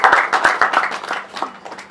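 Small press conference audience in a studio giving a short round of brisk hand claps, distinct close slaps at first that thin out and fade within about two seconds.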